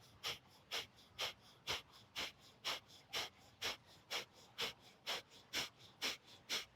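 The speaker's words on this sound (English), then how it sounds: "Breath of fire." Breath of fire in Kundalini yoga: fast, even bursts of breath pumped at the navel, about two strong exhalations per second in a steady, unbroken rhythm, close and alone.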